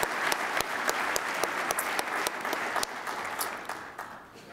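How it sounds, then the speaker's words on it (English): A crowd at an induction ceremony gives a sustained round of applause, dense clapping with some sharp nearby claps standing out, tapering off slightly toward the end. "I'd like a round of applause for those people."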